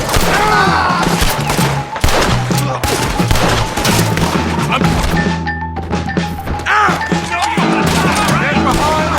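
Rapid gunfire cracks through a chaotic wagon shootout in Red Dead Redemption II, loud overlapping shots and impacts packed densely together, with shouted voices mixed in.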